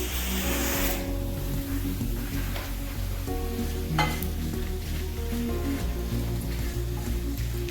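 Lentils and curry leaves dry roasting in a pan for brinjal rice, a constant close rustling sizzle with repeated stirring scrapes, accompanied by a steady low hum throughout.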